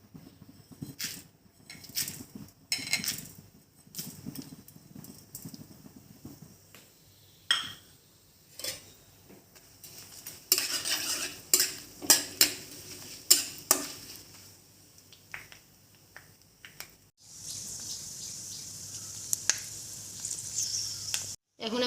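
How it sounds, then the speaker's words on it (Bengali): Bay leaf, dried chili and panch phoron dropped into hot oil for khichuri, crackling and sizzling in bursts with clinks of a spoon against the pot, a louder hiss near the end; little talk. "এর মধ্যে এখন আমার তেল গরম হয়ে গেছে, এর মধ্যে এখন তেজপাতা দেব, শুকনো মরিচ দিয়ে দেব, আর পাঁচফোড়ন দিয়ে দেব"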